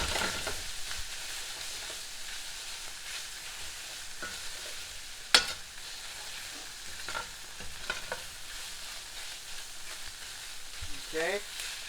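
Meat base with tomato paste cooking down in a pan, a low steady sizzle with occasional stirring scrapes and a sharp clink, close and fairly quiet throughout.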